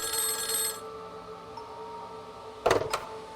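A telephone ring sound effect: a bright, buzzing electronic ring bursts out at the start and cuts off, followed by quiet room tone and then a pair of sharp clicks.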